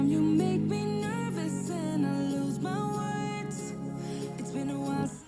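Music plays through the small speakers of Ray-Ban Meta smart glasses, a melodic tune with sustained harmonic notes and shifting pitches, continuous for several seconds before cutting off.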